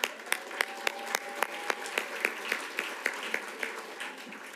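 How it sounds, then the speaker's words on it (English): A hall audience at a Muscogee County school board meeting applauds operational schools, steady crisp clapping with a regular rhythm of sharp individual claps standing out, moderately loud and continuous throughout. "Another round of applause for our operational schools."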